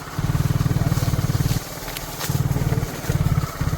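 A motorcycle riding around in loud close bursts of pulsing engine chug, briefly easing off before surging again.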